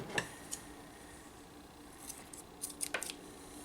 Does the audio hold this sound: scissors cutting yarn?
yes